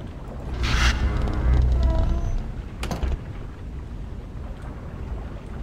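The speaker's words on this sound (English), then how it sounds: "So that's going to pump water back in." Water being pumped back through pipes in the video game Riven, a steady rushing, watery drone with a louder surge early on and a brief splash near the middle, continuing alone to the end.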